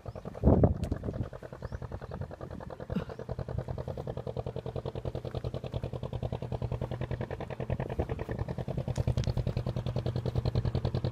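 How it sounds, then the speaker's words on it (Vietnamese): A small boat motors past along a canal in the Mekong river country of Tien Giang, Vietnam, its engine a steady rapid chugging throb that builds slightly louder as it passes, with no speech. "Một con ghe đi ngang qua."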